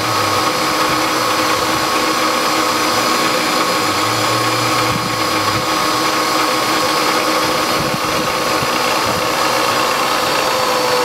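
A power tool trims metal rods to length. Its loud, steady motor whine runs without a break for the whole stretch, close by and with no voices.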